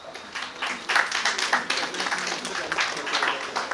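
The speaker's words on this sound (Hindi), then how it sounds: "जिन्होंने अमृतसर कहा है उनके लिए तालियां बजाई जाए" An audience at a talk claps in a brief round of applause, a moderately loud patter of many hands with irregular sharp peaks that continues for a few seconds.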